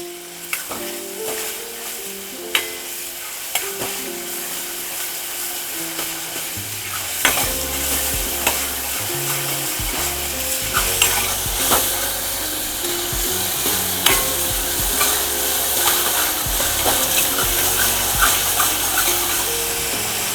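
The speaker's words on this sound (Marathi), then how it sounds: "हा कांदा आपल्याला थोडा लालसर होईपर्यंत परतून घ्यायचा आहे" Onion sautéed over a high flame for egg curry, stirred with repeated scraping strokes in the pan, the frying hiss swelling louder partway through and holding steady close up.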